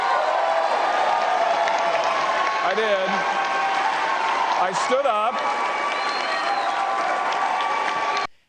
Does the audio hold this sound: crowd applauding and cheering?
yes